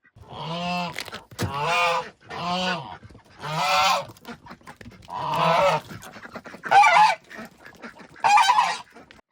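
Geese kept to guard a flock of ducks honk loudly and close, about eight harsh, drawn-out calls coming one after another with brief quiet gaps between them.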